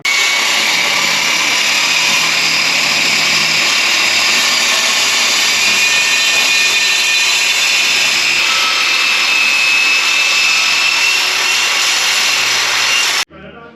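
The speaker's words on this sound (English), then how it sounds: "we got our floor pan removed, and the saw worked really well" A power saw cuts out the steel floor pan of a Ford truck body, a loud, continuous high-pitched grinding whine held for about thirteen seconds before stopping abruptly.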